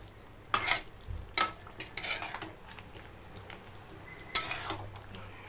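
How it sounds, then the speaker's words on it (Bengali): A spoon stirs echor chingri, green jackfruit with prawns, in a pan with ghee and garam masala: several sharp metallic scrapes and clinks come in irregular bursts over a faint background, with no talking. "লাস্টে আমি দিয়ে দেবো 1 চামচ গাওয়া ঘি আর হাফ চামচ গরম মশলা পাউডার দিয়ে ভালো করে নেড়ে নিচ্ছি"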